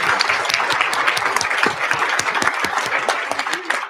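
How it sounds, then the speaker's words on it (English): An audience at a policy conference session claps steadily in a dense, sustained round of applause, fairly loud and close, with no voices over it. "We have another round of applause for Meredith and Val."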